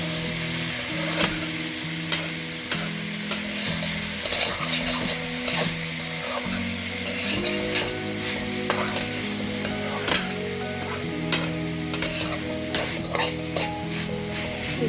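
Chili powder, chopped tomato and salt sizzle in a hot pan while a spoon stirs with steady scraping and clinking strokes, close and fairly loud, with no talk.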